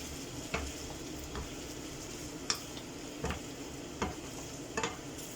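A one-pan stew of pork, chorizo, potato, chickpeas and garlic sizzles steadily as it is mixed, with a spoon knocking and scraping against the pan in several sharp clacks over the frying hiss.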